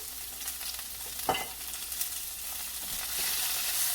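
Tomatoes and vegetables stir-fried in a pan, a soft, fairly quiet sizzle with a few utensil scrapes and taps, the frying hiss rising slightly toward the end, no voices.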